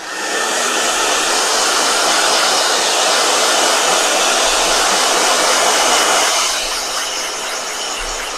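A blow dryer runs loud and steady as a continuous broadband whoosh, then its pitch and force drop slightly near the end as the setting changes.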